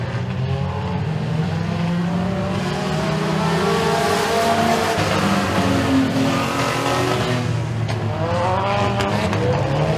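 Dirt track race cars howl around Eriez Speedway in the final Challengers heat race, a dense, loud pack of engines with rising and falling revs, close and continuous with no talk.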